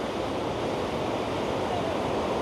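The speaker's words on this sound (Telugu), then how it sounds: "ఈ జలపాతం చూస్తుంటే అసలు అదిరిపోయింది చూడండి" A waterfall near a Roman-era town set in a river pours with a loud, steady broadband roar that stays even and unbroken throughout.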